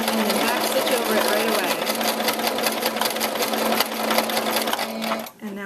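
A sewing machine back stitches over a seam in fabric for a hat, its steady rapid motor whir running nearly continuously at close range before a brief pause near the end, with a voice talking over it.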